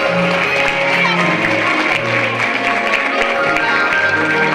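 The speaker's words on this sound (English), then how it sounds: "give yourselves a nice round of applause for being here to celebrate with us this evening." Guests at a wedding reception at Crest Hollow Country Club give a loud, continuous round of applause with scattered cheers, while music and voices carry on underneath.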